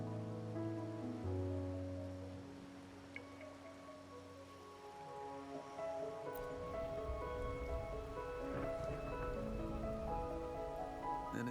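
Steady rain patters through a rainy night scene in a video game, a soft continuous wash under sustained musical tones that grows denser partway through.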